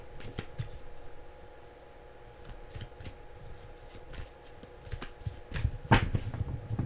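A deck of playing cards being shuffled, with repeated soft riffling bursts and clicks spread across the span, the loudest near the end, under low background noise.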